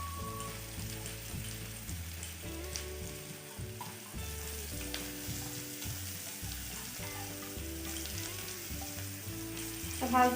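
Breaded carrots fry in hot oil in a pan, giving a steady, close sizzle that runs the whole time beneath prominent background music.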